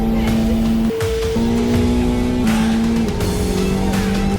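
A McLaren 750 race car engine roars loud and close, its pitch climbing in stepped gear changes as it accelerates hard, with a brief dip between shifts.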